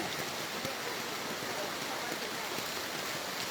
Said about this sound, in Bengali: এই যে বাইরে বৃষ্টি